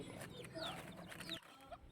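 Hens clucking and squawking nearby, a few short overlapping calls against a busy farmyard background.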